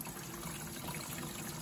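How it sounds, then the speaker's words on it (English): Water runs steadily into a shop vac tank, a soft continuous trickling wash with no breaks, faint and heard alone. "let this fill up with water"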